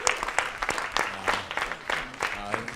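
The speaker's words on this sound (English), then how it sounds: "Let's have a round of applause about that." Audience at a clean power community event claps in a light, scattered round of applause, with distinct individual claps close by and a voice speaking over it.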